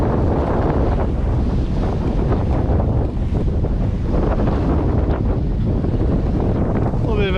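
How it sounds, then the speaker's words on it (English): Strong wind buffets and roars across the microphone aboard a sailboat under way off Catalina in December, a loud continuous gusting rumble mixed with water wash, with no talk. "A little bit of a gust"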